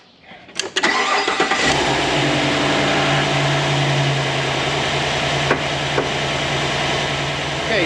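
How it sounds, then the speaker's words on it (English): An engine is cranked and fires up after an oil change during grain silo repair work, catching after a brief crank and then settling into a steady, loud idle. "Oil cap's back on, let's fire it up."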